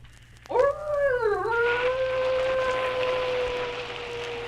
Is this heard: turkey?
no